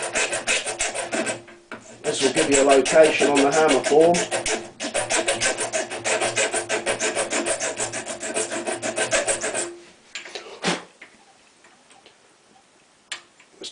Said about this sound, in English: file a small slot